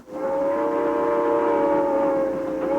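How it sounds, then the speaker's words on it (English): Steam locomotive whistle on an old coal-fired engine pulling a scenic tourist train along the Sacramento River: one long, loud, steady harmonic blast held for nearly three seconds, close by, with no talk. "The train carries tourists on a scenic ride along the Sacramento River"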